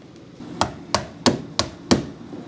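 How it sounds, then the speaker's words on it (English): Nails being hammered in while a window is installed, five sharp, evenly spaced strikes about a third of a second apart, close and loud with no talking. "gonna finish nailing it all off now that we like how everything's looking"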